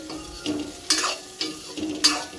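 A spoon scrapes steadily through soybeans frying in masala in a hot pan, about four rhythmic stirring strokes over a continuous close sizzle.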